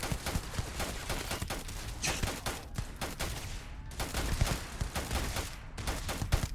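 Dense, continuous sci-fi gunfire from a Starfield battle, overlapping shots and bursts at a steady moderate level throughout, with no talk over it.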